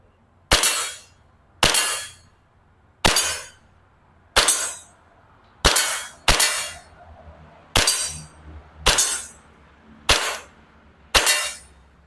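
An Army R29 M1911 BB pistol fires at targets 10 meters away, ten sharp metallic shots spaced about a second apart, each with a brief ringing decay, close and without talk.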